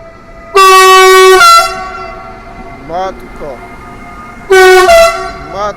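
Polish RP1 locomotive hauling the international IC Chopin train in Warsaw, two long loud horn blasts a few seconds apart, with a faint whistle between them.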